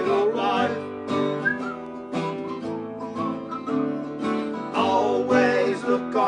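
Whistling carries a bright, cheerful melody as part of a song, with clear sustained tonal notes over musical accompaniment.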